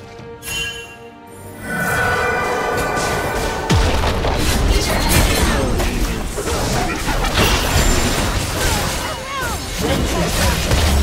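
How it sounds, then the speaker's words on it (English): Booming explosion from a turret being destroyed in a League of Legends match, a heavy blast followed by continuous crashing game effects and busy battle sounds, with a voice speaking over the mix. "Team's turret has been destroyed."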